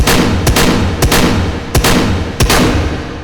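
A revolver fires in the VR shooting game H3VR: four loud, sharp shots ring out evenly spaced, roughly two-thirds of a second apart, each with a brief echoing tail and no voices.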